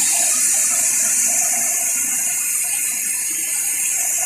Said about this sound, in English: Los Bueyes waterfall, an amazing, incredible, worthless waterfall here in the VR.